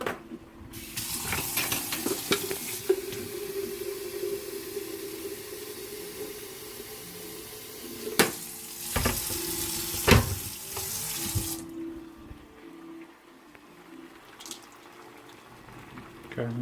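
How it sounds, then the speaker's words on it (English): Water poured in a kitchen, a steady broadband rush running unbroken for about eleven seconds with a few sharp clinks, then cutting off to a quieter room tone. "I'm gonna pour some water"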